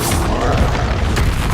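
A Confringo blasting spell explodes in Hogwarts Legacy, a loud, dense, booming burst over steady game combat noise with no pause.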